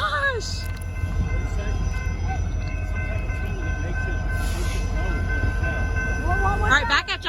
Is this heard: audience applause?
no